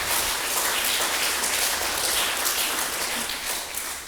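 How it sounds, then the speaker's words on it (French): Applause fills a French meeting hall, a steady broadband patter of many hands clapping at close range, sustained and fairly loud throughout with no voices over it. "oui, applaudissements"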